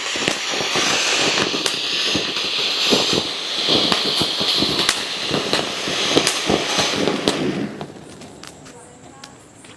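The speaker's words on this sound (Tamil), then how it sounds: "கோல்டன் மிராக்கிள் தான் ஸோ இது எப்படி இருக்குன்னு பார்க்கலாம் செம்ம ஹைட்டுக்கு போகுது" A Golden Miracle aerial firework shoots high with a rapid, dense run of crackling pops and bangs over a hissing shower, loud and close, thinning out near the end.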